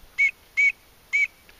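Three short, clear, high-pitched whistle blasts imitate a green-winged teal call, blown on a Haydel MP90 duck whistle. They are evenly spaced with a faint fourth peep at the end, close and fairly loud over quiet background.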